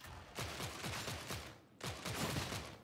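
Rapid las pistol shots from Warhammer 40K Darktide fire in two quick volleys, each a rhythmic string of sharp energy zaps at moderate loudness, with no talking.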